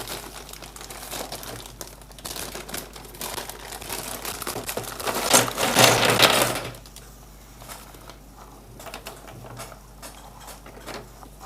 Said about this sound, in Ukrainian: Щось пакет в пакетах. Багато пакетів в них лишніх чи що.